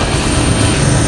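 A police aviation unit helicopter flies over roads on traffic enforcement patrol, giving a steady, continuous rotor and engine roar heard from inside the cabin, loud and unbroken throughout.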